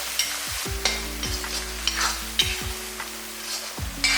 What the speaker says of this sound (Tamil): பாருங்க, இந்த அளவுக்கு நல்லா கிளறியாச்சு